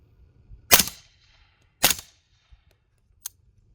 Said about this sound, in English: I'm going to shoot this thing a couple of times without iPro just to see how well this Break Arms Warhammer is doing at stopping the gas